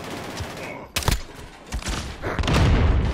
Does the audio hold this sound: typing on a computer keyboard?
no